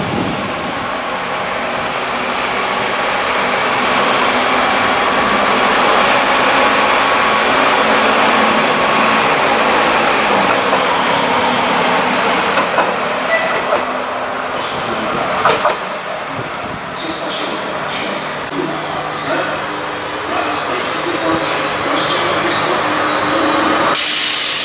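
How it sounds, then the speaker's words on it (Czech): A delayed passenger train passes through Česká Třebová station with a long, steady rumble and rolling noise of wheels on rails that swells and holds, punctuated by a few clanks and knocks near the end. "Spožděný osobní vlak."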